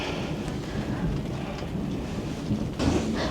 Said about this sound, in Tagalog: Kumukulog-kulog at umaambon-ambon.